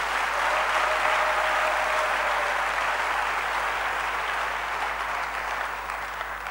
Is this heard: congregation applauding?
yes